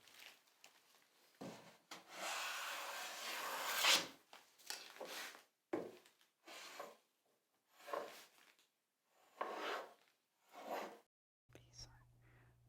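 Hand plane smoothing and squaring the edge of a rough-cut wooden board, a series of separate close, airy shearing strokes with a longer opening pass and short pauses between each stroke.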